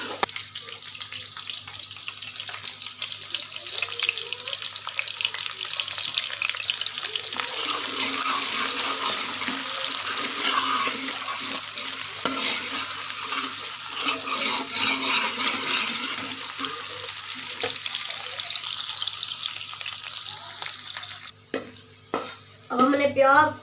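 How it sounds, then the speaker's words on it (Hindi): Chopped onions frying in hot oil until brown for a pumpkin and chana dal curry, a loud continuous sizzle and hiss with occasional stirring scrapes, close and steady throughout, no voice. "अब हम प्याज को ब्राउन कलर का करेंगे।"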